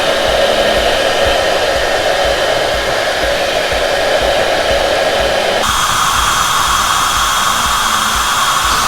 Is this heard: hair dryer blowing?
yes